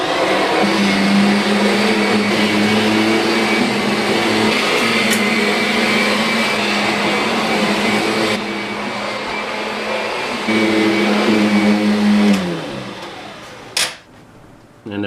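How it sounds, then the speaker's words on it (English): A vacuum cleaner runs loud and close across a floor, a steady roaring drone that dips and shifts in pitch as it moves, then winds down and cuts off near the end. "we're gonna vacuum the floor"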